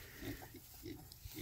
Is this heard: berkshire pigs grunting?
yes